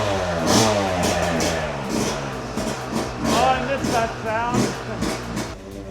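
A Yamaha two-stroke engine running on premix sits near and loud, its buzzy note rising and falling with slight throttle blips, rattling steadily throughout with no voices.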